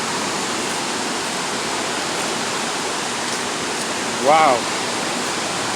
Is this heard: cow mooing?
no